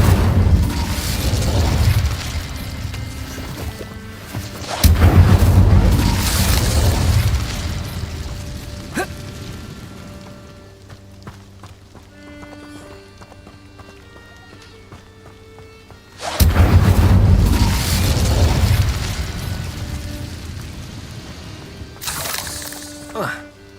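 Incendio fire spell bursts in Hogwarts Legacy, loud booming blasts with crackling rumble that swell, fade to a quieter stretch, then erupt again, with a voice speaking between.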